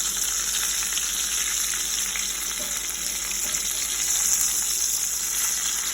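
Pork pieces browning in a frying pan for pork Marsala, a steady bright sizzle and crackle of hot fat running continuously at close range, with faint stirring noises and no talking.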